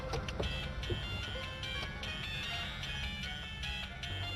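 A phone ringtone plays a repeating electronic melody, fairly loud and continuous, with faint background noise underneath.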